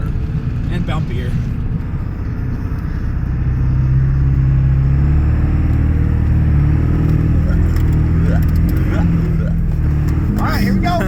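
An old truck drives through sand, its engine a loud, continuous low rumble that builds and holds as the ride gets rougher, with occasional voices inside the cab.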